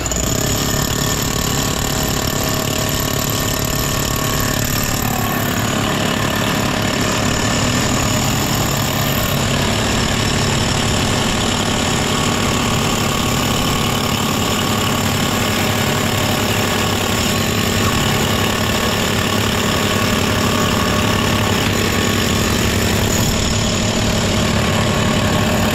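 Makita 40V XGT cordless drills bore holes side by side in a drilling race, a loud continuous grinding whir that runs steadily with no pauses and no talk.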